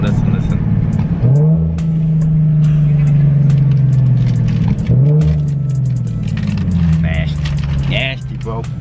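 A car with custom wheel fitment drives past up close, its engine swelling in two revving pulls that rise and settle, with road rumble throughout and bits of voices near the end.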